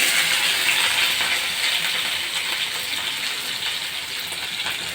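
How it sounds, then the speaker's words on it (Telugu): Onions and green chillies frying in a pan for a spiced potato fry, a steady loud sizzle with crackle running continuously and fading slightly toward the end. "ఇవి బా బాగా వేయించాలండి ఇంకా బ్రౌన్ కలర్ వచ్చే వరకు వేయించాలి ఆనియన్స్ని"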